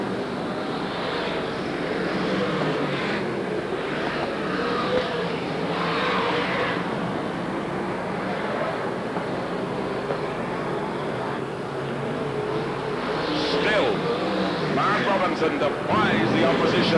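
V8 dirt modified race cars racing around a dirt track, a continuous loud roar of engines that swells and fades as cars pass, with a race announcer talking over it throughout.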